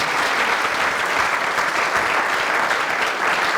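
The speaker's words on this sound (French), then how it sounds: "applaudissez le merveilleux monsieur" Sustained applause from an audience at an education debate, steady and dense throughout with no pauses.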